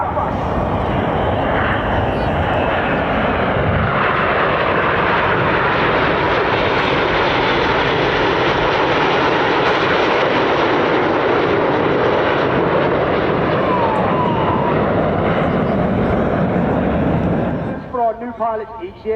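Red Arrows jet aircraft roar loudly and continuously through an aerobatic barrel-roll display at Bournemouth Air Festival, a broad sustained engine rush with a commentator talking over it before it drops away at the end.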